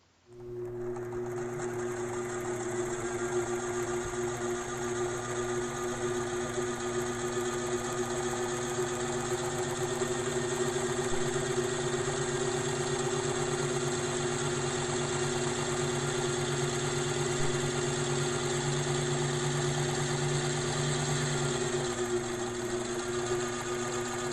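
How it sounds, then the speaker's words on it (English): A sewing machine runs steadily for the whole stretch, stitching around an appliqué with invisible thread, a constant close mechanical hum and whir with no pauses and no talk. "This time I'll go around the perimeter with the stitching"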